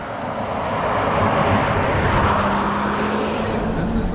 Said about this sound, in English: No, this is a nice little engine.